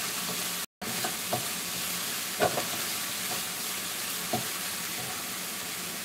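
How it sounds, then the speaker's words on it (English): Spring onion stirred into mushrooms in a hot pan gives a steady sizzle and frying hiss, with a few soft scrapes and clinks of the utensil against the pan. "in your mushrooms, put your spring onion in. Get that stir around like so."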